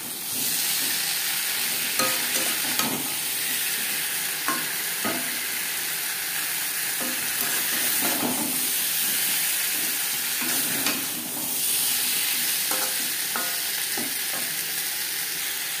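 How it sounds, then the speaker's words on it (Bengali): Pointed gourd and boiled potato pieces frying in a pan with salt and turmeric, producing a loud, continuous sizzle up close, broken by periodic scraping and stirring knocks of a spatula. "পটলের সাথে আলুও ভেজে নেব।"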